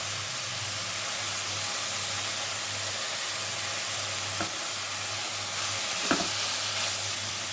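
Chopped chicken crepe filling with cabbage and carrot fries in a hot pan, giving a steady, close broadband sizzle throughout, with a brief stir clatter near the end and no talking.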